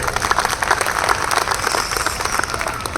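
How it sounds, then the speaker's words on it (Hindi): Enthusiastic audience applause at an event in Mumbai, dense steady clapping from many hands filling the room, sustained and fairly loud throughout with no voices over it. "ऐसे संस्था के लिए एक जबरदस्त ताली तो होनी चाहिए।"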